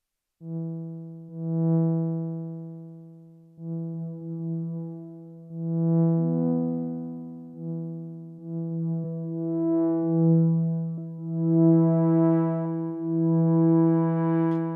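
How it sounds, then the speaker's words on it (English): A sustained Novation Summit synthesizer pad holds rich, buzzy chords in swelling phrases, with a brighter third oscillator an octave above layered on top, played alone. "we're going to kick in a third oscillator with a different wave shape, an octave above"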